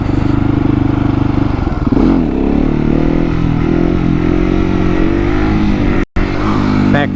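A KTM 701 motorcycle engine revs hard and steady as the throttle opens during a wheelie, loud and close with a continuous droning roar, one brief dropout near the end before the engine picks up again.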